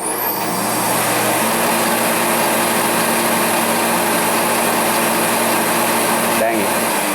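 A forced air heater cranks and tries to start, giving a loud, steady whirring motor drone that runs unbroken through the whole stretch before a brief knock near the end.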